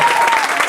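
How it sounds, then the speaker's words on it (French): Wedding guests applaud in a short, loud, close burst of many hands clapping, with a faint voice or tone running underneath. "Vous pouvez applaudir une fois encore pour"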